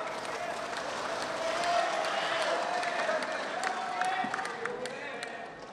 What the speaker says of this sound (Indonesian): mari kita memberikan tepuk tangan untuk kandidat nomor 4.